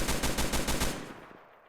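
A rapid burst of automatic machine-gun fire in the Fallen V5 shooter game, loud and close with an even, fast rhythm of about a second, then cutting off into a short fading echo.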